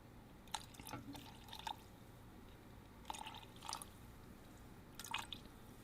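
Water is added to a thickened, gummy mixture that reacted badly with ethanol, heard as a few faint, sparse drips and small splashes spaced a second or two apart against a quiet background.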